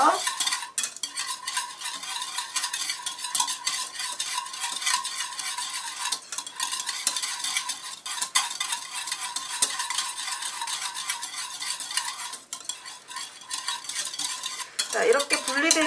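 Olive oil being whisked into a vinaigrette for tuna tartare, a continuous fast scraping and swishing of whisk against bowl, close and steady with brief pauses, no talking.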